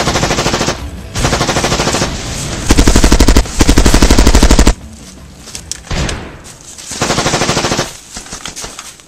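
Loud video game machine gun fire in long sustained bursts, with rapid rounds broken by short gaps and a few scattered single shots, all very close and dominant.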